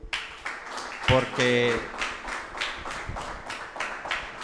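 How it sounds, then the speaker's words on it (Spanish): A church congregation breaks into rhythmic clapping, a string of sharp hand claps spread across the whole stretch, mixed with some voices and a brief sung or shouted tone partway through. "Démosle un aplauso"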